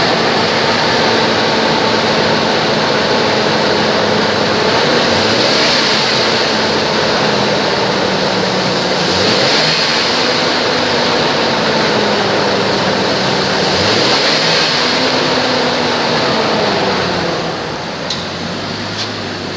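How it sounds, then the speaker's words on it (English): 2007 GMC Envoy engine idling, a steady close mechanical drone with a faint whine, small pitch wavers recurring every few seconds, easing slightly lower near the end. "184, engine run video"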